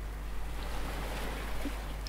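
Steady wash of sea waves from the game Yuppie Psycho, a continuous low rumble with airy hiss, constant and unbroken throughout.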